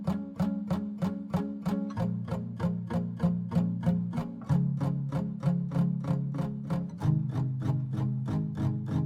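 Acoustic guitar parts for a song's middle eight play a steady, evenly spaced strummed rhythm, with chord changes every few seconds, clear and alone with no voices.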